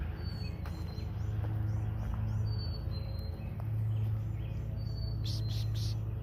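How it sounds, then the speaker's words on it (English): Small birds giving short buzzing calls during morning migration, likely warblers, a few faint high buzzes repeating over a steady low outdoor rumble, with a brief louder cluster near the end. "I'm hearing little bzz, bzz, bzz."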